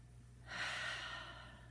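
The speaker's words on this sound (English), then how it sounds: "And take a breath." A slow, deep inhalation followed by a long exhale during a calming tapping exercise, breathy and close, rising after a brief quiet start and fading gently, with no talking.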